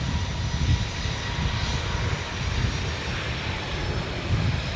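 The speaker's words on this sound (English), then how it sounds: "Oh, that Qantas sounds good." Qantas jet airliner engines at Adelaide Airport, a steady broadband roar with a heavy low rumble that swells and eases slightly, continuous and moderately distant, with no voices.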